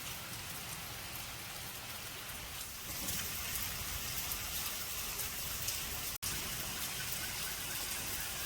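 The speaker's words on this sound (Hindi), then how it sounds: "और जैसा कि अभी आप देख रहे हैं, झमाझम बारिश हो रही है।" Heavy monsoon rain falling in India, a dense, even roar of drops on surfaces that swells a little louder partway through, with a brief dropout near the end and no voices.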